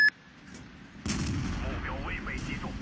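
A sharp, booming tank cannon blast in World of Tanks, fired from a 59-Patton, hits after a brief faint pop and then leaves a loud rumbling tail while a commentator talks over it.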